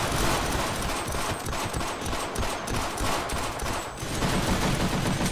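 A mounted turret fires in the video game Sven Co-op, a dense, loud, unbroken stream of rapid gunshots that carries through the whole stretch.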